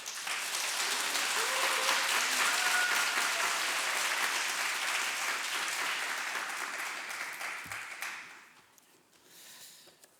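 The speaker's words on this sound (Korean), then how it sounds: "박수를 쳐주시기 바랍니다" Congregation at a Busan church's year-end festival worship service claps and cheers to welcome a guest pastor, dense sustained applause that fades away toward the end, followed by a brief quieter stir.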